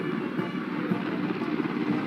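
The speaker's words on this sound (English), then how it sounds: "are Mi-17 V5 helicopters of the 155 helicopter unit." Mi-17 V5 helicopters of an air force unit flying over a Republic Day military parade, a steady loud rotor and engine drone that holds at an even level, with faint crowd or ambient noise beneath.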